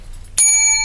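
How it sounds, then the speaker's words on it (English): A single crisp strike of a new call bell, a bright ringing tone that sustains and slowly decays after a quiet moment of faint background noise. "let's say it's the new call bell."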